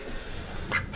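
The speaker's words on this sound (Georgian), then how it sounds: "იხვი" A duck quacking up close, two short nasal calls near the end over faint background noise.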